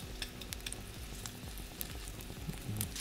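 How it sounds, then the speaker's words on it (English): Swedish meatballs browning in a frying pan, a steady close sizzle and crackle of frying with light scrapes and taps as they are stirred and kept moving. "So these are our meatballs browning."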